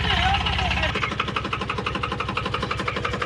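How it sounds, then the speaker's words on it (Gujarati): A tractor engine runs at a steady idle with a rhythmic, knocking chug, close by and fairly loud, while people talk over it. "ટ્રેક્ટર હાલે છે"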